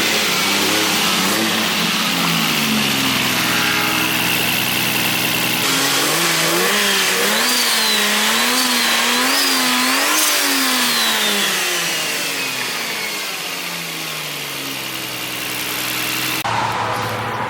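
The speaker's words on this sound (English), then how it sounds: "Start it up. Let's rev it." Revving of a 2JZ VVTI engine in an S14 drift car: a loud, close idle, then repeated rising and falling revs in a wavering series, easing back down toward idle.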